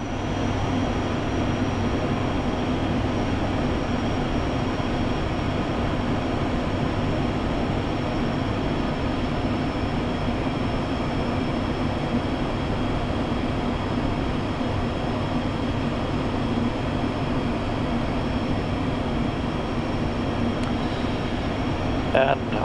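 Brand new DAT ATR 72-600 turboprop airliner landing at Bornholm on a 2,000 meter runway: a loud, steady engine and airflow roar that holds constant and unbroken throughout, with no clear breaks.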